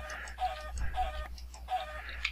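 Chicken clucking in Minecraft with the StoneBlock modpack, a few short repeated clucks in a steady rhythm over a low constant hum, fairly close and moderately loud, with no talking.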